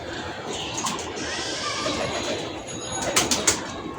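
Pigeons coo inside their sheds against a dense, noisy background, with a few sharper bird calls rising near the end.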